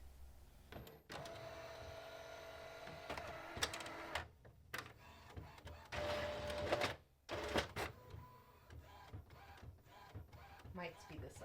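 An inkjet printer feeds and prints a printable HTV transfer sheet, its print head whirring in repeated mechanical passes with clicks and pauses between them, close and moderately loud, while someone talks over parts of it.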